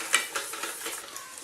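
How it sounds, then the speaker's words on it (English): Spoon stirring grated Kefalograviera cheese into thick béchamel sauce, a soft, continuous scraping swirl with a faint clink near the start, close and quiet with no talking. "So now I'm going to stir in my cheese"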